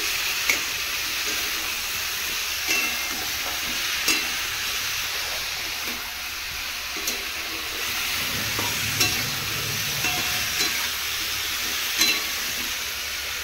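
Spices with turmeric are stirred in a frying pan, a soft steady sizzle broken by periodic scraping taps of the spoon against the pan.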